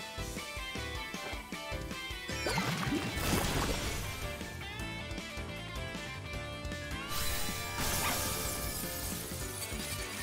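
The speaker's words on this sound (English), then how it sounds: "When the crystal shatters, it looks so cool." Crystal shattering in the Pokemon Violet video game, a bright smash and shatter burst about a third of the way in, with a second glittering surge later, over dense, continuous game music.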